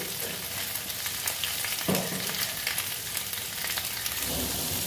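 Two bay leaves and whole cumin seeds frying in hot oil for a jackfruit and prawn curry, giving a loud, continuous close-up sizzle with crackling spatter throughout and no talking.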